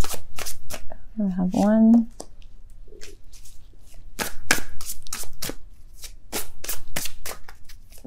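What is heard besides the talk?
tarot cards being shuffled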